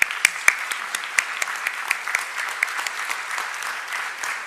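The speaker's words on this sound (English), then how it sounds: "Please give him a big round of applause." Audience applause for a guest at a stage event, a steady wash of many hands clapping with sharper individual claps standing out, sustained and fairly close throughout.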